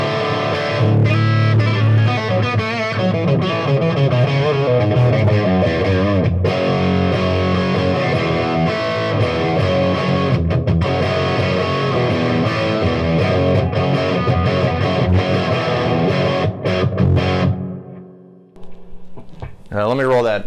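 Marshall Vintage Modern guitar amp switched to high dynamic range mode with more gain, a dense, loud distorted electric guitar riff playing steadily before cutting off near the end.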